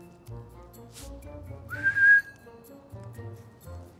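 A person whistles a short, sharp rising note at close range, alone against low background murmur.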